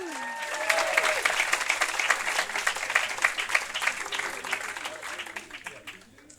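An audience welcomes speaker Bahia Shehab with sustained, dense applause from a crowd, steady throughout and fading slightly at the end.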